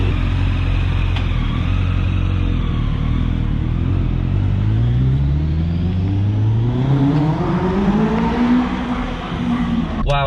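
A Westfield Seven, a Caterham- and Lotus-style lightweight sports car, drives along with a loud, close engine rumble, its pitch climbing steadily as it accelerates through the gears.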